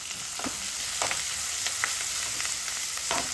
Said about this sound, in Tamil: இந்த டைமில் இந்த வெங்காயமும் கறிவேப்பிலையும் சேர்த்து போட்டுடலாம்.